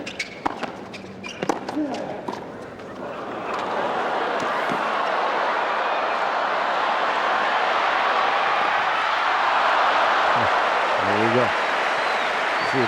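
A stadium crowd at a 2002 US Open quarterfinal tennis match between two players breaks into sustained, loud applause and cheering after a few sharp ball hits and scattered claps, with a brief voice rising over the roar near the end.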